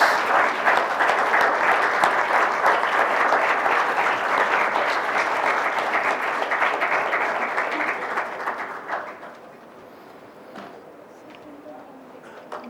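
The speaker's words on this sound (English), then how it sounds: "I request everyone to give her a big round of applause." Loud, dense audience applause fills a conference hall at an international Olympic research conference for Deepa Malik, holding steady for about nine seconds before thinning out and fading to scattered claps and room noise.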